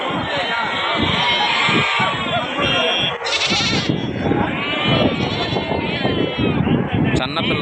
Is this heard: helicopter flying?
no